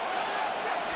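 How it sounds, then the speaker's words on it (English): Football stadium crowd at an Eagles home game against the Rams, a dense, steady roar of cheering fans building for a third down. "This crowd into it now as we get to third down."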